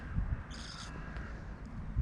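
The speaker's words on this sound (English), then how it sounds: "the crows are all making sounds because they know she's not good" A crow caws a few times at a distance, harsh calls standing out over a low outdoor rumble.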